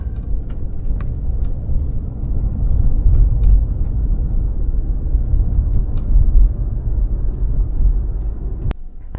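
A taxi car drives through city streets in Dnipro, heard from inside as a steady low engine and road rumble, loud and continuous, ending with a sharp click.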